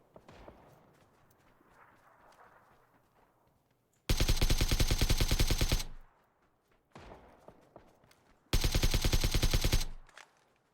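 Two long bursts of AK rifle fire, each about two seconds of rapid, loud automatic shots, with quieter background noise between them.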